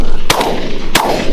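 Two loud, close shotgun blasts boom about half a second apart during a mourning dove hunt outdoors, each with a short rolling tail and no talk over them.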